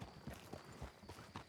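Horse hooves clip-clopping in a Red Dead roleplay video game, a faint, quick, regular series of hollow hoof strikes at a walking pace.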